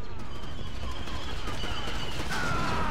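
Dense, continuous blaster rifle fire from Star Wars Battlefront 2 with enemy troopers shooting, loud overlapping shots merging into a sustained barrage with a rising electronic whine near the end.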